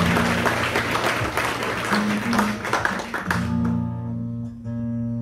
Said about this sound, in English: Give them all another big round of applause.